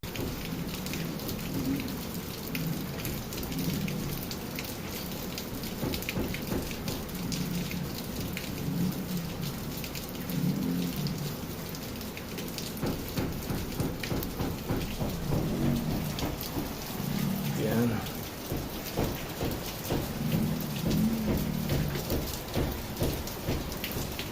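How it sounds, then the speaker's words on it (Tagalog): Steady heavy rain pours throughout, with a dense hiss and scattered louder drops and patters close by, continuous with no voices. "Ayan, umuulan."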